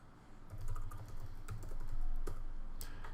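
Rapid, close keystrokes clatter on a computer keyboard in short bursts with brief pauses, alone and fairly quiet.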